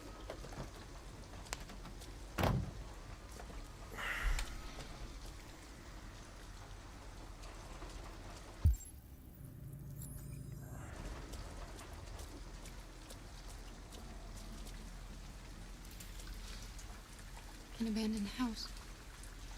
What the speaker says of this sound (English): At least we'd be out of the rain.